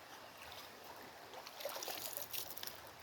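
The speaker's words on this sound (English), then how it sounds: "I'm going to dip myself in the creek" Outdoors, creek water splashes and trickles as a runner dips into the stream, faint light splashing that grows busier toward the end.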